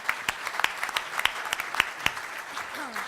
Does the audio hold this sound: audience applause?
yes